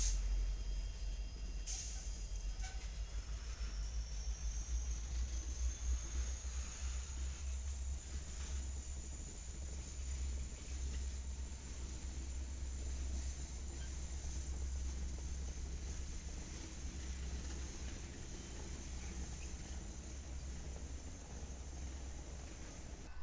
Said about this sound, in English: Alton and Southern SD60 with UP SD60 and an SD70M working the 12th